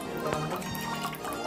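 Water from a tender coconut trickles and pours steadily out on an Indian farm, a soft continuous liquid flow close by, with faint background noise and no clear talk over it.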